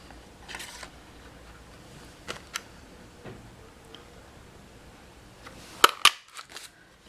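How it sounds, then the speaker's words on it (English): A Pine Tree Punch stamping a tree shape out of paper for a Christmas card, heard as a few sharp isolated clicks and snaps with a louder crisp clunk near the end, quiet room, no talk. "we're going to use the Pine Tree Punch to punch out the tree"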